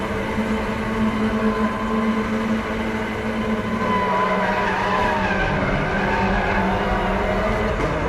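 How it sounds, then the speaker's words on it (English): A front-wheel-drive WTCR 2018 race car in the RaceRoom racing game spins its wheels at the launch, giving a loud, sustained screech over a steady engine drone for several seconds. "Big wheel spin!"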